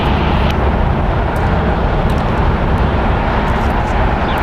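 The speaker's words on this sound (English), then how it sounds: "American Airlines that just departed there was in its Stand Up to Cancer livery, Flight 2801, going to Cancun" An American Airlines Airbus A321 in Stand Up to Cancer livery takes off from a Los Angeles International Airport runway, its jet roar a dense, steady, loud rumble throughout.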